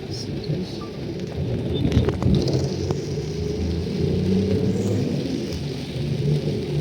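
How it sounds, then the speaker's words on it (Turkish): Steady, dense roar of heavy rain in a village in Ethiopia with low rumbling underneath, continuous and loud throughout, with no voices. "Ama çok iyi bir yağmur yağıyor."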